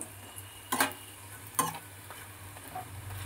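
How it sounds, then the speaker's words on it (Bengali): Sugar paratha frying in a pan, a soft steady sizzle with two sharp scraping clicks as the flatbread is turned or pressed, fairly quiet and without talk. "আবার এই পিঠটা একটুখানি ভেজে নিই।"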